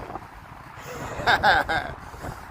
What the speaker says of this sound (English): Yeah, it's kind of windy.